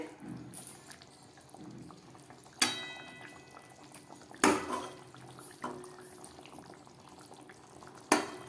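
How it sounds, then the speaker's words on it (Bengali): A curry of elephant foot yam, potato and prawns simmers quietly in a pan on low gas, giving a soft, bubbling hiss that is interrupted by a few sharp clinks and knocks. "গ্যাসটা একদম কমিয়ে রান্না করলাম ওলকচু আর আলু চিংড়ি মাছ দিয়ে তরকারি এখন একটু ঝোল আছে"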